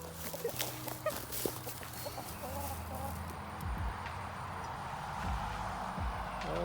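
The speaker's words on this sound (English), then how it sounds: "So we're going to feed these chickens." Several chickens cluck and murmur nearby as they are fed, with scattered short calls, followed by a steadier rushing noise in the background.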